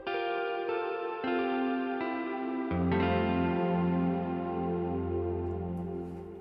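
Guitar chords ring out bathed in heavy reverb, sustained notes blooming and lingering with a spacious, echoing tail.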